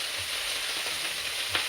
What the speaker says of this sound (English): Y'all know I love the sizzle, but it does get loud.